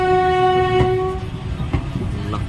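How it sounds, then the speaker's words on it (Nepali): A train at an Indian railway station, with a loud sustained horn blast up close followed by rumbling and clattering wheels as it passes. "क्या हो अब ट्रेन आउने जाने भइरहेको छ"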